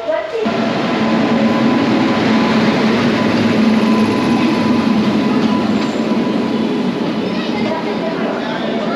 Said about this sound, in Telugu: ప్రజెంట్ అయితే మనం జర్నీ చేయాల్సిన ట్రైన్ అయితే బ్యాక్ సైడ్ అయితే వస్తుంది